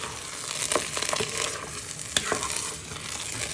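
A sausage sauce with flat-leaf parsley is stirred in a pan. A soft, continuous sizzle sits under a couple of distinct scraping strokes from the utensil, with no talk.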